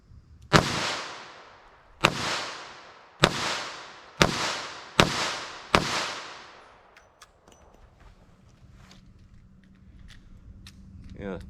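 A Taurus 856 revolver fires .38 Special 158-grain lead round nose rounds: six loud, sharp reports with ringing decay, spaced roughly a second apart, followed by quieter handling noise.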